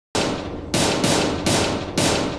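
Rapid automatic gunfire from the video game Rewind or Die comes in four loud, dense bursts, each running without a break into the next, with no voices.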